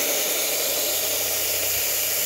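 Steady, loud hiss of a QuickMill Lucca espresso machine steam wand blowing continuously, with a low rumble underneath.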